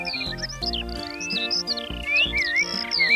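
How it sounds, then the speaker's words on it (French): Cartoon birds sing in a French children's animated tale, bright chirping whistles and trills layered over light musical accompaniment, loud and continuous for a few seconds. "Les oiseaux chantent"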